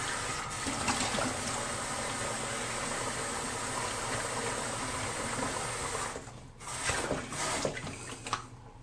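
Water runs steadily from a tap as someone rinses their face after a shave with a shavette, a broad continuous splashing that breaks up near the end into separate splashes and drips.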